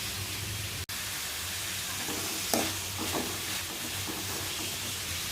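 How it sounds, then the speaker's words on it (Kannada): Spring onion and green chilli fry in a pan with a steady, fairly faint sizzle and hiss, broken by a few soft stirring scrapes and a single sharp click near the start. "ಓಕೆ, ಆನಿಯನ್ ಸ್ವಲ್ಪ ಜಾಸ್ತಿನೇ ಕುಕ್ ಆಗಲಿ ಸ್ವಲ್ಪ"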